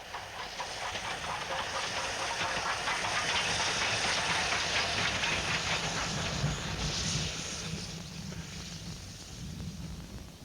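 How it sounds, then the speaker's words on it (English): Steam locomotive Oliver Cromwell running on its way to preservation at Bressingham in Norfolk, a steady hissing and rhythmic clatter of wheels at moderate distance for about ten seconds, easing slightly toward the end, with no speech. "Oliver Cromwell starts on its long journey to preservation at Bressingham in Norfolk"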